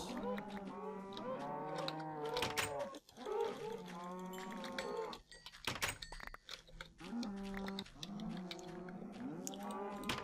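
Cows in the video game Minecraft moo repeatedly, several overlapping drawn-out calls close by with brief gaps, alongside faint game thumps.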